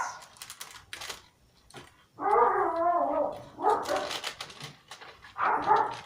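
Several small pet dogs bark repeatedly at visitors in a home, fairly loud, sharp bursts of yapping with short pauses between them.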